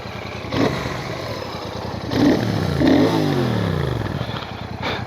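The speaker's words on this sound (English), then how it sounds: "Beautiful sound and 650 engine, as they always are." A Royal Enfield Bullet 650 twin engine runs at idle with a throbbing, close rumble, rising in a couple of brief revs with a mechanical clatter before settling back down.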